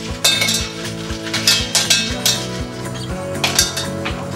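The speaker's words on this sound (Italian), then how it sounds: "prendo una pentola piccola e ci butto dentro mezzo chilo di vongole" Half a kilo of clams tumble into a small metal pot, giving a run of hard clinking, rattling shell impacts on metal in irregular bursts, close and fairly loud, with no voices.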